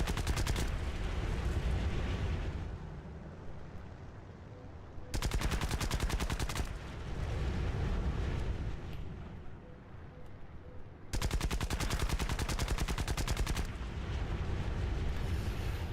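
Aircraft guns fire at ground targets in War Thunder, heard as three long, loud bursts of rapid automatic fire separated by steady engine drone.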